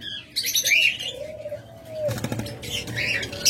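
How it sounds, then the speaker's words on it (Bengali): Lovebirds at a bird farm chirp in quick, shrill bursts while wings flap in short flurries, close and lively. "অসংখ্য লাভবার জোড়া রয়েছে"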